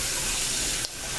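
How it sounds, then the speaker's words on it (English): Chicken frying in a pan gives a loud, steady sizzle and hiss close by, with a brief dip partway through, and no talking. "She has some chicken frying."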